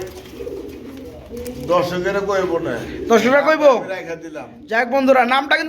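Pigeons coo in repeated throaty, rolling calls close by, the bursts growing louder and fuller toward the end.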